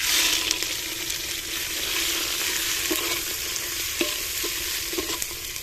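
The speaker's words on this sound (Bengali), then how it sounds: "তো এবার আমরা সয়াবিনটা ভেজে নেব হালকা।" Soybean chunks fry lightly in hot oil in a pan, giving a steady, close sizzle with small crackles and occasional stirring clicks throughout.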